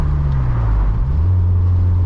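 Steady, close engine drone of a Toyota MR2 Turbo driving through corners at 40, with a deep continuous rumble and no voices.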